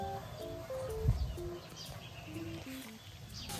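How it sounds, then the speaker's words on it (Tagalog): Birds call in the provincial countryside with a few short tonal chirps and coos that rise and fall in quick stepped notes over a low rumbling background, fairly faint and without talk. "Ay, mga tunog na ganyan na maganda sa probinsya. Naririnig, diba? Oh, mga ibon."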